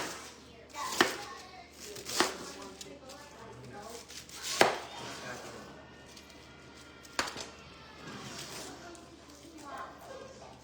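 Leftover purple cabbage being chopped for bigos, a handful of crisp, spaced-out knife thuds on a board, with a person talking over them.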